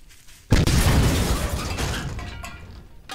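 A gunshot in Garry's Mod, a sudden loud blast with a sharp attack and a rough decaying tail lasting a few seconds, followed by fainter mechanical clicks and a second small crack.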